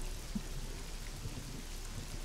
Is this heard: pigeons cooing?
no